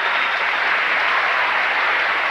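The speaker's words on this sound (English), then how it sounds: "And they applaud for Orser" An arena audience applauds figure skater Brian Orser at the 1991 World Professional Figure Skating Championships, dense, even clapping that fills the space without a break.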